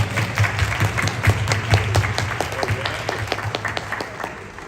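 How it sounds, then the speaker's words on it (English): Steady applause from an audience at a Phagwah Holi celebration in Queens, New York, many hands clapping at once, fairly loud and continuous before tapering off slightly at the end. "Another round of applause for our honorees."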